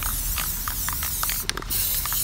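Steady hissing of spray paint from an aerosol can being sprayed onto a cosplay piece, continuous and close, with a few short bursts partway through.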